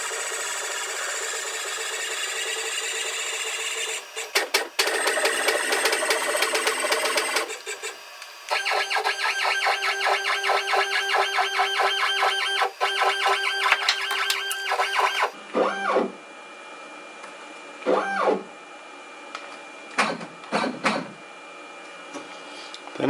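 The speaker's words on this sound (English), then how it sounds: "we're going to move the gantry over to the material." An X-Carve CNC machine moves its gantry across the material, with loud buzzing stepper-motor whines that start, stop and change pitch, followed by short separate motor sweeps with brief pauses between them.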